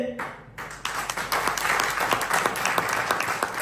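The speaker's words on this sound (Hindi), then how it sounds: "आप सभी के लिए मैं चाहूंगा एक बार जोरदार तालियां होना चाहिए" Guests at a seminar closing burst into loud applause after a brief pause, the clapping swelling into a dense, sustained roar of many hands.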